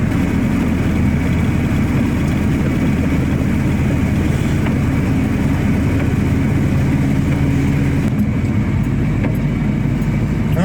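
Car engine idling too high, a steady loud rumble with a constant drone that barely changes, heard up close and alone without talk.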